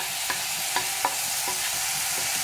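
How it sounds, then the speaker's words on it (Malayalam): Chopped tomatoes fry with garam masala for tomato rice, a steady sizzle broken by several distinct stirring scrapes and knocks of a spoon in the pan, close and without talk. "ഇനി ഇതിലേക്ക് നമുക്ക് മുറിച്ചു വെച്ച തക്കാളി കൂടി ചേർക്കാം."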